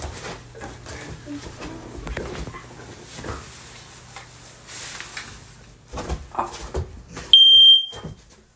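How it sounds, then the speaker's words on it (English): A shrill household smoke detector on a home's first floor beeps loudly for a moment near the end, after soft handling noises and some speech. "This is our smoke detector on the first floor."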